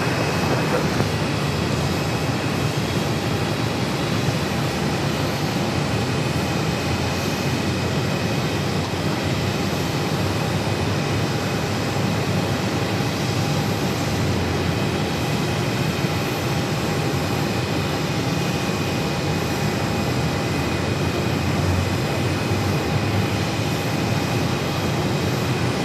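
Aircraft landing on runway 8 at Phoenix airport, with the engine roar forming a steady, loud, broadband rumble that holds continuously and evenly throughout, with no talk over it.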